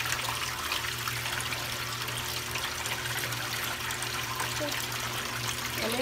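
Water drains from a Panda PAN56MGW2 portable washing machine with a soft, steady trickle and a low pump hum running throughout, fairly quiet and with no speech.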